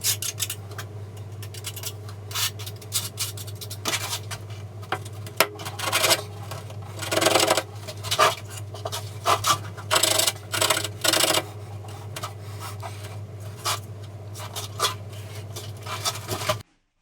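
Exposed edges of large format wall tile for a steam shower are polished in irregular rasping, scrubbing bursts over a constant low motor hum, close and moderately loud with no speech.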